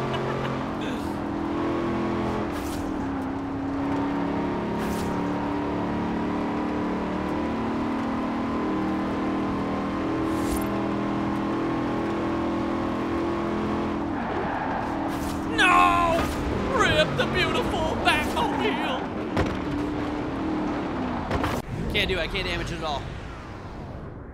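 A custom Corvette Z06 driving in the Forza Horizon 4 video game, its engine droning steadily at moderate loudness beneath someone talking, with a few revving surges and sharp game effects toward the end.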